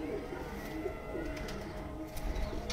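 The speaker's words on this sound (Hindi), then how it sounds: "गाइस ये चपड़ा कबूतर है" A chapda pigeon, a fancy flying breed, coos softly and steadily in the background over a low ambient hum, with no voices.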